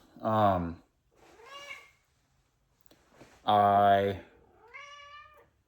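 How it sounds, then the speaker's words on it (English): A house cat meows twice, each call loud and drawn out with a falling pitch, followed by softer trailing mews, in a garage where vehicles including a Chevy S10 truck are being worked on. "Sorry, damn cat distracted me."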